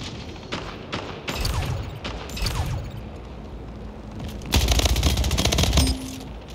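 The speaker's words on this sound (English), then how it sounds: "He hit me with a shotgun." Shotgun blasts ring out in the sci-fi arena shooter Splitgate, several sharp loud shots in quick bursts with a heavier cluster near the end, mixed with other game noise and no talk.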